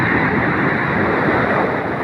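Sea waves wash around a small wooden boat at sea, a loud, constant rush of water and wind noise filling the whole clip without pause.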